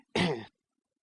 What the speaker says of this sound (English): Trottle entered his protest directly in the shape of a cough.